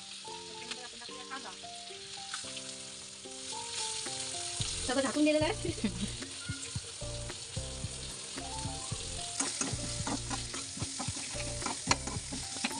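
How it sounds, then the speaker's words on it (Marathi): Tempering of mustard seeds, cumin and garlic paste crackles and sizzles in hot oil, growing louder midway with stirring scrapes, while a voice speaks briefly over the frying and soft music plays underneath. "तडतड आवाज आला पाहिजे फोडणीचा"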